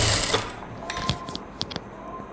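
A sewing machine stitches the folded hem of a baby's photo-shoot skirt, a loud opening whir giving way to short, quieter mechanical bursts and clicks, with no talk.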